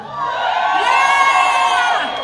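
An audience of people over 40 shouts, whoops and cheers loudly at a rally, a sustained roar of mixed voices that rises and fades over a couple of seconds.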